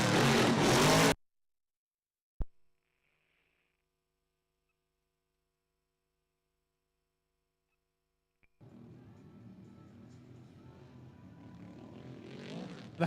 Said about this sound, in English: That is the sound of a sprint car engine meeting a drift car